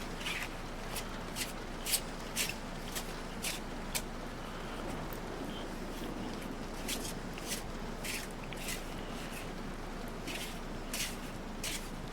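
Tarot cards are shuffled by hand in a steady run of soft, papery slaps and riffles that repeat through the stretch, heard close over a faint background hiss.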